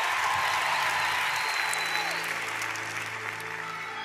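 A church congregation bursts into sustained applause and cheering to acclaim Jesus, a dense, steady roar of clapping with voices mixed in that holds for the whole stretch.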